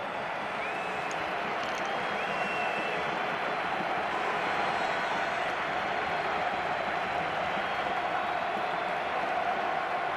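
Steady crowd noise and applause fill a football stadium during Slovakia versus Spain as Alvaro Morata is substituted, a broad distant roar that holds level throughout with no clear individual claps.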